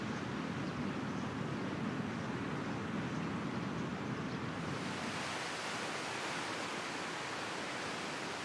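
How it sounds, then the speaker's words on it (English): Sea waves wash in a continuous, loud, broadband roar of surf in the flight simulator X-Plane 12, steady throughout with a slight shift in texture midway. "You can now hear the sounds of the sea"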